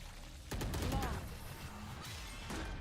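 Bursts of rapid gunfire crackle from several directions in a Valorant match, with sharp shot transients starting abruptly and recurring across the stretch, with talk faintly underneath.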